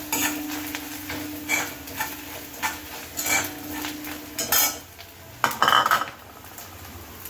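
A spoon stirs and scrapes in a pan as curry leaves, dried chillies and grated coconut fry in oil, making repeated close clinks under a faint sizzle, with a sharper clatter near the end.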